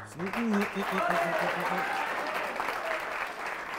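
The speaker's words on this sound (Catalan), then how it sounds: "t'han fet l'aplaudiment" A studio audience claps for a contestant on a local Catalan television word game show, a steady burst of applause close by, with a voice speaking over it at the start.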